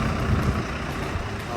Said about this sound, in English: And the sky blue color buses.